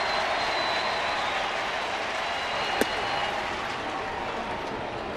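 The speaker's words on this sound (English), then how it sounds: "this crowd comes alive" The crowd at a Cardinals baseball stadium roars and applauds as the game is tied against Milwaukee, a dense, steady wash of cheering with one sharp crack partway through and a voice faintly underneath.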